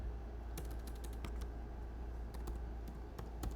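Quiet, steady clicking of keys on a computer keyboard while writing HTML5 input-type code, irregular light taps over a low background hum, no voices.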